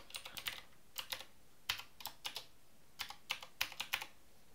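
A password is typed on a computer keyboard in quick, light bursts of clicky keystrokes with short pauses between them, soft and close with no talking.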